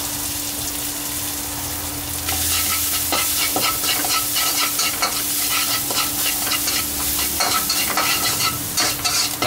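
Garlic frying in a little leftover oil for Thai crispy pork belly with chili and salt, a steady close sizzle with busy scraping and stirring strokes throughout, growing louder after the first couple of seconds.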